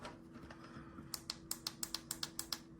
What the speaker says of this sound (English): you hear it clicking. I'm pressing it.